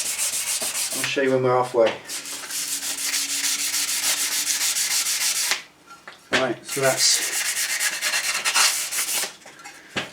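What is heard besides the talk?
sanding scuff down of metal heat shield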